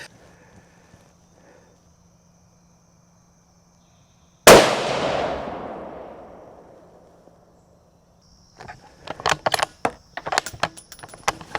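A single loud rifle shot from a Bergara B14 Ridge in 6.5 Creedmoor, a sharp crack with a long ringing decay, followed seconds later by clattering metallic handling sounds of the bolt and gear.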